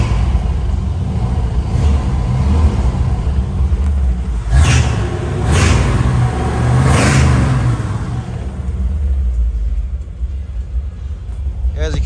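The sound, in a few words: 1957 Chevrolet Bel-Air engine revving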